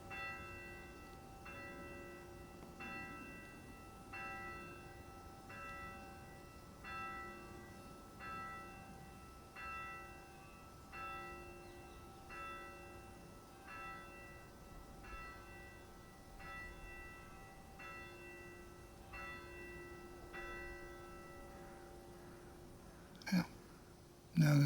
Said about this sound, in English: the bells are tolling for its passing.